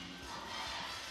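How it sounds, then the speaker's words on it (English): An arena crowd at a Japanese mixed martial arts event on New Year's Eve cheers for a wrestler, a steady, distant, moderately loud roar of many voices with no single speaker heard. "this crowd is just going ape for him"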